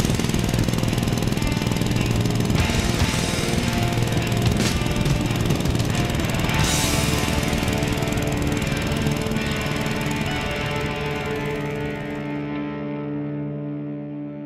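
A motorcycle engine held wide open at full throttle, a loud, close, rapid rattling drone with a steady pulsing roar that holds for a long stretch and slowly fades toward the end.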